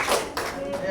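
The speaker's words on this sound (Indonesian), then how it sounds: "tepuk tangan untuk semuanya." A short burst of applause from a gathered audience, a few uneven claps rising and fading within a second.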